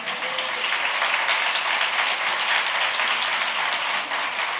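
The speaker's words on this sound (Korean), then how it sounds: "박수 치려면 크게 치시지." Church audience applauding at a missionary talk about Taiwan, a steady wash of many hands clapping throughout, moderately loud and continuous with no speech.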